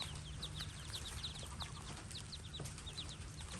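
Chickens clucking on a farm, with a rooster among them, a scatter of short repeated clucks at moderate distance over a steady low background rumble, no talking.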